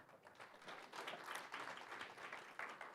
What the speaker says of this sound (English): Let's celebrate Jesus with a clap offering